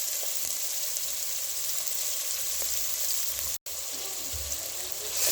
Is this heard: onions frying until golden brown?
yes